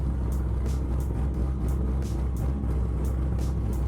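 A C6 Corvette engine idles steadily right after an oil change, a constant low rumble with faint periodic ticking, close and unbroken for the whole stretch.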